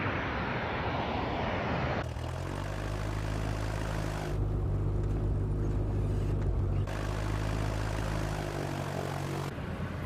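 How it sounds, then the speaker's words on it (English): Constant engine roar of airplanes taxiing, a droning propeller hum rising and shifting in tone, loud and steady throughout. "You've got a lot of airplanes taxiing out."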